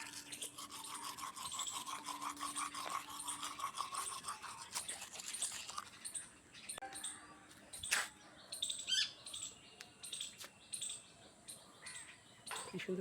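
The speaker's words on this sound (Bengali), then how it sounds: "আমি ঘুম থেকে উঠে ব্রাশ করছি।" A toothbrush scrubs teeth in a morning brushing routine, with steady close-up bristle scraping and birds chirping and calling in the background throughout.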